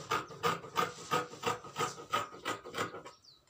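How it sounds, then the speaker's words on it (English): Scissors cut through fabric along the back armhole of a shirt jumpsuit, making about ten evenly spaced rasping snips in a steady rhythm, close and fairly quiet, then stopping. "So you cut the back armhole first."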